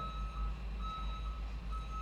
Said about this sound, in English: Like this guy behind me with the backup beeper.